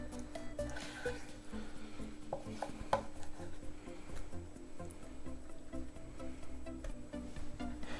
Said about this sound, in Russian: Ну и нарезаем сало удобными для вас кусками